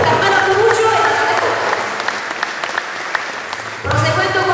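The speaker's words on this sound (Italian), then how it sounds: "quindi un applauso troppo per Carmela Tonuccio e Natale" Audience applause at an applied arts and crafts event, steady broadband clapping from a crowd that continues for several seconds before speech resumes near the end.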